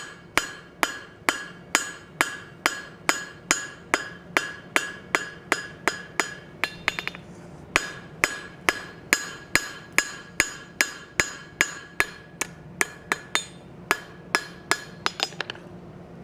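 A cross peen hammer forges a petal on a steel rose, striking in a steady rhythm of about thirty loud, ringing metallic blows, with one short pause partway through.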